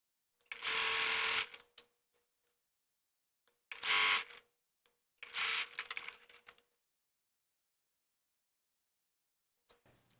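Three short, close bursts of sewing machine stitching bias binding onto a pocket bag, separated by near silence, with a faint click near the end.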